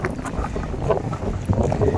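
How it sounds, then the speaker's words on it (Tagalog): Strong wind buffets the microphone in a steady, rumbling roar out at sea on a fishing trip, with water sloshing faintly underneath. "Medyo malakas po ang hangin."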